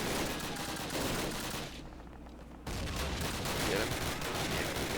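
Dense gunfire and explosive noise fill a World War II D-Day battle in the Call of Duty video game, with a grenade thrown at an MG42 position, loud and continuous apart from a brief dip in the middle.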